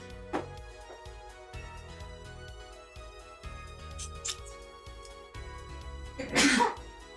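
A single sharp sneeze bursts out close to the mic near the end, standing out over steady background music from an Ace Attorney: Apollo Justice playthrough.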